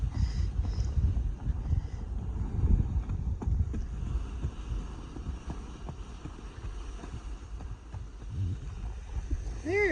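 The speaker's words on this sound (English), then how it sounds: "Oh, the wind picked it up." Outdoors, steady wind buffets the microphone with a loud, continuous low rumble and gusty roar that never lets up. Faint tonal sounds are audible near the end.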